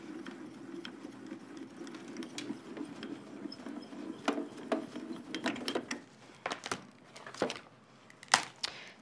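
Card cranked through a Grand Calibur embossing machine, a low grinding mechanical hum with rhythmic turning under it, then scattered sharp clicks and clacks as the rollers finish, all close and moderately quiet.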